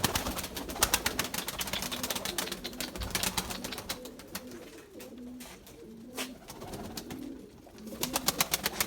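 Young pigeons coo in low, repeated murmurs close by, mixed with dense rapid clicking and fluttering from the flock throughout.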